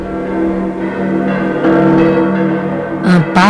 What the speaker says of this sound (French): Les cloches de Saint-Germain-l'Auxerrois donnent le signal de l'assaut.